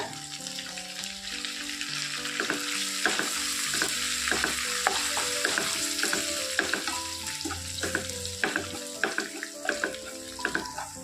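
Green chillies and curry leaves hit hot oil for a homemade pickle, a steady close sizzle and crackle with clinking stirring strokes and occasional sharp taps running throughout, no voices.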